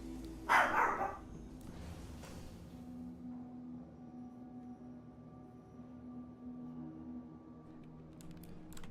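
A dog gives a short burst of barks near the start, a couple of sharp yaps that rise above a steady low electronic hum and faint room noise, then the rest stays quiet apart from the drone and some light clicking.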